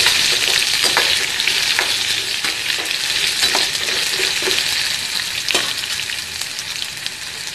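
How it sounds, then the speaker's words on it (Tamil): Steady, crackling sizzle of ginger and grated coconut frying in a hot pan, with occasional scraping clicks from stirring; close and continuous, no talking. "நல்லா வதக்கலாம்."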